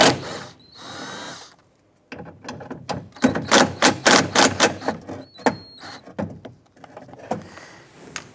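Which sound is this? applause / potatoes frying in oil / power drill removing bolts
power drill removing bolts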